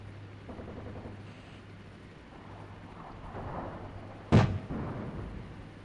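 A single heavy artillery boom in the video game Armored Brigade 2, a sharp loud blast followed by a rumbling tail over a low steady background hum.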